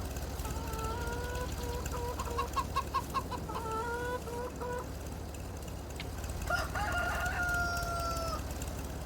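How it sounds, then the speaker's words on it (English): Chickens cluck and a rooster crows in a Polish farming video game, with repeated harmonic clucks through the first half and a long crow later, set over a steady low hum. "I didn't order any black chickens."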